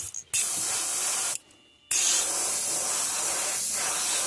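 A Sparmax DH-103 airbrush sprays white base coat onto a fishing lure in three close, loud hissing bursts separated by short silent pauses, with no voices.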